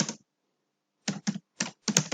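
A computer keyboard types a comment in Microsoft Word in short bursts of rapid clicks, close and crisp, with one burst, a pause of nearly a second, then four quick clusters.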